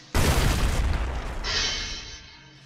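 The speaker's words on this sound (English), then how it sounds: "this hand, T, it's a bunch of tiny bombs" A swarm of tiny bombs goes off in a video game attack: a sudden loud boom opens a dense rumbling burst, and a hissing tail follows as it fades away.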